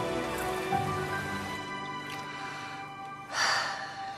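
Rain falling in a French film scene, a soft, even patter of drops under a sustained musical drone, with a brief swell near the end.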